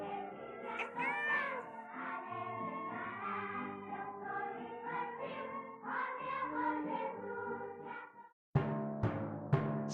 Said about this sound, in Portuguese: Carlotinha, por que seu gatinho chama Maio?